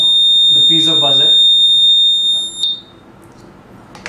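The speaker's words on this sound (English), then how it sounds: "the audio is still audible from the piezo buzzer" A piezo buzzer sounds through a microwave absorber in a radar training lab, giving a steady high-pitched electronic tone for about two and a half seconds before cutting off, with a brief unclear sound over it early on.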